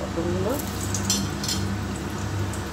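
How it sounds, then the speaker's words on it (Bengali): Pointed gourd (potol) slices fry in hot oil with a steady, close sizzle and faint pan clinks throughout. "পটলগুলো ভালো করে ভেজে নেব।"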